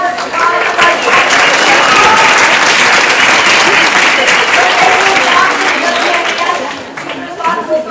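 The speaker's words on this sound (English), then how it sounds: "a big round of applause" A loud round of applause at a birthday bash, with many hands clapping close and steady for several seconds along with crowd voices, then tapering near the end.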